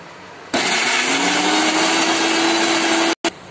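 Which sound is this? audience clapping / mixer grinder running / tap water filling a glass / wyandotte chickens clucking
mixer grinder running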